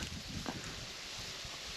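Steady crosswind buffets the microphone outdoors among reeds while fishing, a constant loud rushing roar with faint rustling underneath.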